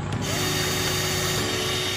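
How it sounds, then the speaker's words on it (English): A power drill whines loudly and steadily while boring a hole into the metal of a van during a build, one continuous close grinding run with no talk. "Start by drilling a hole."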